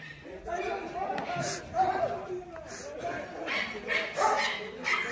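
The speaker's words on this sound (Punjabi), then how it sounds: "ਕਾਲੇ ਫੜ ਲੈ ਕੁੱਤਾ ਆ ਪੈਂਥਰ" A dog barks several times in sharp, close bursts amid a crowd at a Thar-versus-tractor tug-of-war event in Punjab, with people talking and shouting throughout.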